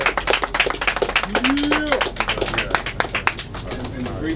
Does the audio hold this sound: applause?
yes